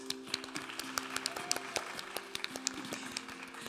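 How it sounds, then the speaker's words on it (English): Applause from an audience at a literary reading, a steady patter of hands under crisp individual claps close to the mic, with faint voices mixed in. "let's clap for that."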